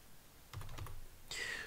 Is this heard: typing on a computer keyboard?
yes